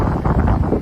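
Steady low rumbling wind buffeting the microphone, loud and continuous with no voices.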